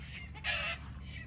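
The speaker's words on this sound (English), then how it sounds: "Chickens fighting in the background, as you can hear." Chickens fighting in a backyard garden in June, a brief faint squawk in the background over steady low outdoor noise.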